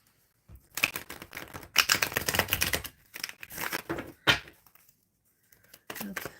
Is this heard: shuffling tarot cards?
yes